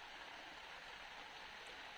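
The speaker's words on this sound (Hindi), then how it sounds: "बाहर में बारिश हो रही है।" Rain falling outside a tent during a trek stop at Patar Nachaniya, a faint, even hiss of drops pattering steadily with no breaks or voices.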